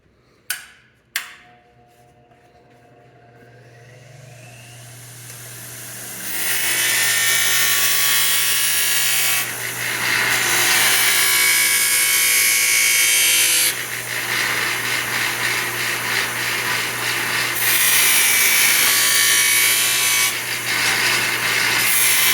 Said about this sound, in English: let's do some grinding